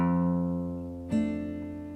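A single guitar plays a slowed-down measure of a song; one sustained note rings and fades, then a fresh pluck sounds about midway, sustaining close and alone with no talk.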